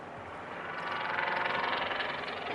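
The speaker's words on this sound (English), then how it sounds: "That's a motorcycle going out my window." A motorcycle passes outside a window, heard indoors as a muffled, broadband engine rush that swells over a couple of seconds and holds at a moderate distance, with no talking.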